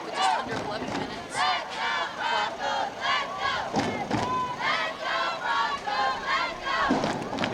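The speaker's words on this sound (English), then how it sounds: "the crowd is trying to get into it" A high school football crowd for the Davenport Broncos against the Liberty Chargers cheers and yells loudly and continuously in rolling waves, with a dense roar of many voices throughout.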